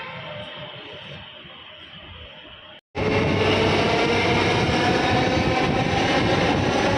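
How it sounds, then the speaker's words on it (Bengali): A metro train pulls into a station platform: quiet platform ambience gives way, after a brief gap, to a sudden loud, steady rumbling roar that fills the rest of the moment. "আর এই দেখো এই ট্রেনটাও চলে এলো"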